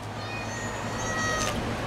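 Faint, thin meows from a stray cat come through a steady hum of outdoor background noise, a few drawn-out cries at moderate distance.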